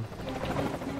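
Helicopter in the video game Alone in the Dark, a steady low rotor drone with a broad rumble running continuously at moderate level, no speech over it.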